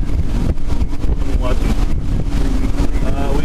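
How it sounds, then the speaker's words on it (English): Strong storm wind buffets the microphone in a field near Asquith, Saskatchewan, with a constant loud low rumble and gusting bursts, and a person talks over it. "I know exactly why the wind is so strong"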